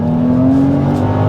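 A supercharged Bufori Geneva accelerating hard gives a loud, steady engine drone with a sustained whine, heard up close from inside the car with no talk over it.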